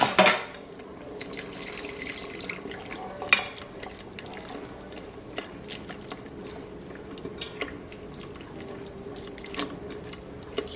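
A silicone whisk stirs slurry into simmering oxtail liquid in an Instant Pot, with a dense, wet bubbling and stirring texture throughout, scattered small taps and one louder knock, and no voices.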